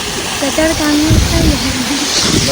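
Steady rushing hiss of falling water at Patdi Swaminarayan temple in Gujarat fills the background while people talk over it, close and continuous.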